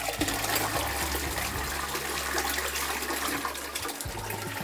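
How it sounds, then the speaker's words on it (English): A hotel toilet in Hong Kong Disneyland's Explorers Lodge flushes with a loud, steady rush of water from start to finish, close by and heard alone. "That wasn't a very adventurous flush."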